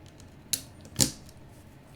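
Two sharp clicks from a Tofu 65 mechanical keyboard, a lone keystroke followed by a louder one about half a second later, near and isolated against quiet background hiss.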